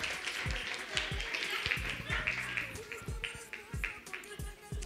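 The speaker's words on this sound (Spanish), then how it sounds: "un aplauso para la mamita" Clapping for a mother at a Sunday church service, a mixed crowd applauding steadily amid chatter and scattered voices, fairly close and continuous.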